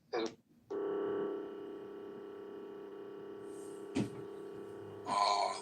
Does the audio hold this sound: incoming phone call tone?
yes